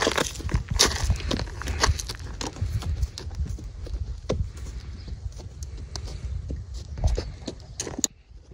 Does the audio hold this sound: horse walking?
yes